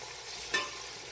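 A soft, steady sizzle of chicken frying in a pan for curry, with a brief louder hiss burst in the middle; no voices.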